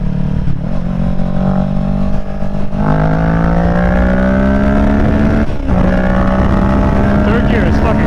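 A Kawasaki Ninja 650 motorcycle accelerates hard through the gears, its engine note climbing in steady rising sweeps with a brief dip at each shift, loud and close throughout.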